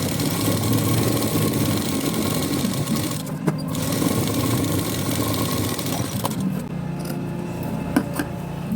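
A sewing machine double-stitches a blouse sleeve, running in a continuous close whirring drone with slight shifts in pace.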